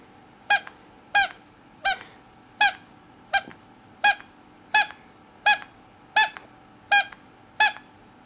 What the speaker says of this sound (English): As you can see, he is enjoying the squeak toy very much.